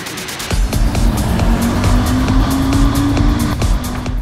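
Race cars starting a Lamera Cup race at the Nogaro circuit, a loud, dense roar of many engines revving up together with rising tone and tyre noise, close and continuous.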